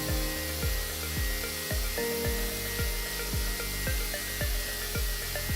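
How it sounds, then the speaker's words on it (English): A Hammer HNC 47.82 CNC router cutting the outer contour of an ebony fingerboard, a steady high whine of the spindle with regular rhythmic pulses about twice per second as the bit passes through the wood, loud and continuous. "Finally, the outer contour of the fingerboard is cut out."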